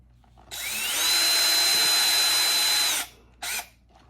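A power driver runs screws into a rear hinge mount on a TRX4 crawler, giving one steady high whine of about two and a half seconds, close and loud, then a brief second burst, alone without talk.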